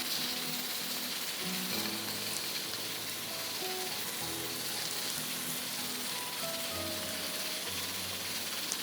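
Chopped onions frying in oil until lightly golden give a steady, dense sizzle and crackle, constant and close, with no voices over it.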